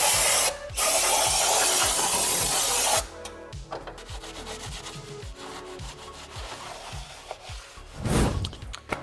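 A loud, sustained aerosol hiss of brake cleaner sprayed onto a car part, then cut off and followed by repeated rubbing and scrubbing of shop towels wiping the surface, with a second short spray burst near the end.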